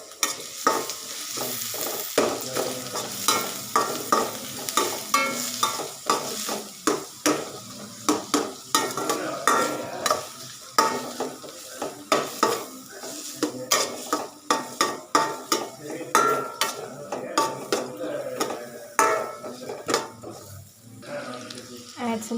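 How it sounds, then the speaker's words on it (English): Onions, carrots, green chilies and crushed ginger garlic fry and get stirred in a pan for egg noodles, with steady sizzling and frequent scraping taps of a utensil in a rhythmic pattern, loud and close throughout. "Now start frying it."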